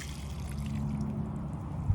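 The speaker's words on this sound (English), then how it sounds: "hand water the fresh seeds that I've planted" Water from a garden hose pours and trickles onto freshly planted seeds in a garden bed, a soft, steady splashing that stays faint and close.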